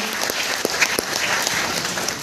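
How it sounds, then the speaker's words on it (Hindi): Crowd applause at a Modicare business function in Mumbai, a dense burst of clapping with a few sharper claps standing out, fairly loud and continuous with no talk. "जोरदार तालियां होनी चाहिए"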